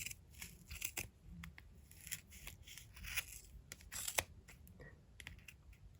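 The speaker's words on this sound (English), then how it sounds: "Took my scissors, went in between." Several quick, crisp snips of scissors cutting through yarn, close up, with small rustles and handling noises between the cuts.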